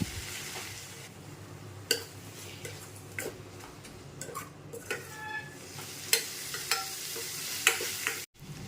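A spoon stirs turmeric, chilli and coriander powder in a hot pan for fish curry: scraping strokes and sharp clicks of metal on the pan come at irregular intervals over a low, steady sizzle, close up, with no talking.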